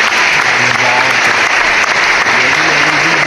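A podcast crowd breaks into steady, loud applause at a Knicks-themed episode, continuous clapping filling the whole moment with faint cheering mixed in.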